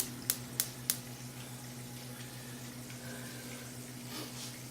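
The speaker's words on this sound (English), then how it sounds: "So I'm going to turn on the water for the raviolis." A kitchen tap runs water for cooking ravioli, heard as a faint, steady hiss after a few sharp clicks, with a low hum underneath.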